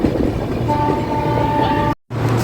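A passenger train leaves a small station after a one-minute stop, heard from inside the coach as a steady loud rumble with a faint sustained horn-like tone, cut off briefly by a short gap near the end.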